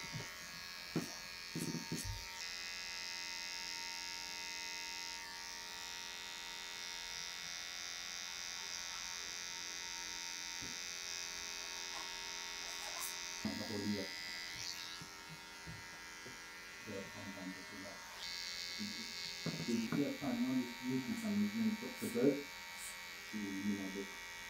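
Electric hair clippers fitted with a comb guard trim a taper above the ears during a haircut, buzzing steadily at moderate volume, with soft voices and handling noises breaking in toward the end.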